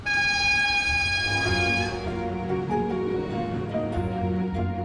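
A train rolls along the rails in the Mansfeld region of Germany, with a long, clear horn sounding at the start, then the steady rumble and squeal of wheels continuing.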